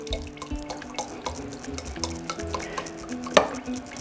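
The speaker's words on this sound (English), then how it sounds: "let this cook for a long time and keep stirring it until it gets thick" Thick turkey garlic gravy stirred in a pot, a spoon scraping in a regular rhythm with soft bubbling and one sharp clink near the end, close and moderate in level, with no one speaking.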